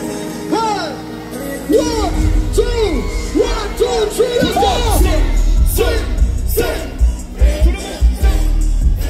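A lively concert crowd in New York City yells, whoops and shouts together over a thumping low beat, voices rising and falling in excited bursts, loud and close.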